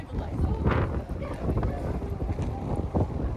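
Gusty wind buffets the microphone on a downtown Toronto street on a warm, windy day, a low rumbling roar with several stronger gusts swelling and fading.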